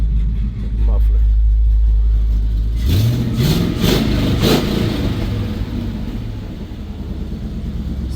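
A Chevrolet C10 truck's engine revs up through exhaust cutouts and a muffler, rising from a low idle rumble into several loud throttle blips that ring out, then settling back to a steady rumble.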